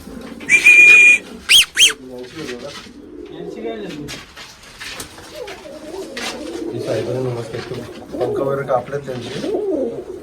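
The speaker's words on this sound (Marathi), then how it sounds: "दादा ही कुठली कबुतर आहेत हे बघा" White pigeons with black tails cooing close by, soft low rolling coos that continue throughout, after a couple of sharp whistles at the start. A voice speaks at times over the birds.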